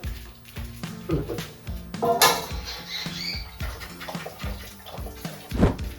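Close, quiet splashing and pattering as water is poured into a bowl, in uneven bursts with soft knocks in between.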